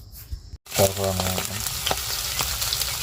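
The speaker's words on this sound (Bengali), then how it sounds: "এই হচ্ছে আমাদের মাছের ভাজা" Fish fries in a pan of hot oil, a bright crackling sizzle that bursts in after a brief silence and continues steadily up close, with faint tonal noises early on.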